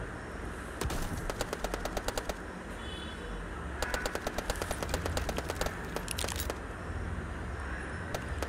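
Bursts of automatic gunfire in the mobile shooter Bullet Echo, rapid rattling volleys in two clusters with quieter gaps between them, slightly distant over a low background hum.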